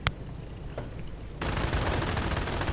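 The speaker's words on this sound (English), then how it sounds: "now we're seeing an actual 25-pound artillery barrage" A 25-pounder artillery barrage in a World War II strategy video game, beginning with a few scattered distant shots and then becoming a continuous rumbling volley of fire.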